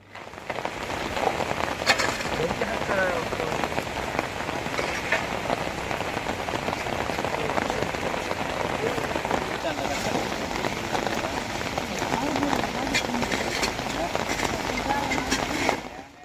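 Heavy, unbroken rain pours down on the coast near a temple, a dense steady hiss of falling water filling the scene with occasional louder splashes and faint voices underneath.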